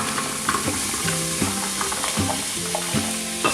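Carrots, celery and onion sauté in an Instant Pot with a steady sizzle, while a utensil stirs and scrapes the inner pot in short repeated strokes, close and fairly loud, with no voices.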